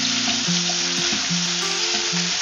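Tomato frying for pork adobo, a steady close sizzle in the pan with soft scraping strokes as it is stirred, while a musical backing plays alongside.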